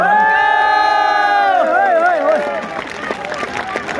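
A crowd at a political rally in Uttarakhand cheers and shouts loudly, with many voices rising in sustained, wavering tones that break up into scattered whoops and calls.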